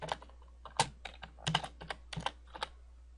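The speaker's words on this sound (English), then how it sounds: "So I'm typing" Fingers tap a computer keyboard at a quiet, irregular pace. The keystrokes come as sharp clicks in small bursts, close to the mic, and nobody speaks.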